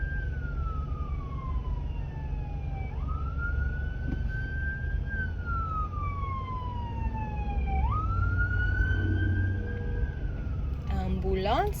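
An emergency siren wails in long rising and falling sweeps, loud and steady over road traffic rumble, with a second siren tone joining near the end.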